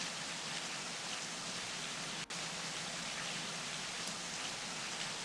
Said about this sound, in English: There is rain on the track.